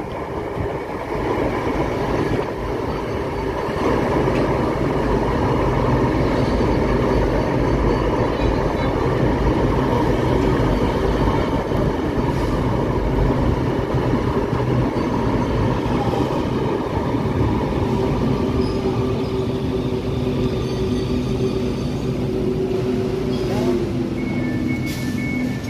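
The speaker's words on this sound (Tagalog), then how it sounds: "So ito na po yung train, parating na." An LRT-1 light rail train arrives at Aquino Avenue station on the Cavite extension, a sustained loud rumble and rolling hum that holds steady and then eases, with a faint high squeal near the end.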